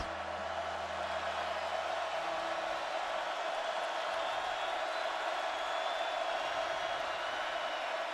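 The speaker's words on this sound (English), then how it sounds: "What you don't want is this crowd to get back involved, which they are now." Broad, sustained roar of a large football stadium crowd at Oklahoma, loud and even throughout with no breaks, and a low hum that fades out early on.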